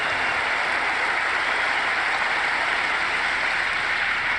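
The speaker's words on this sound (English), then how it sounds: "That's a big round of applause." A big round of applause from an audience at a speech, a steady, even wash of many hands clapping that holds at full strength throughout, with no voices over it.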